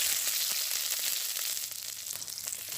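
Whole garlic cloves sizzle in hot oil in a village kitchen, a steady bright hiss of frying that fills the clip, close and continuous, with occasional small pops and no voices.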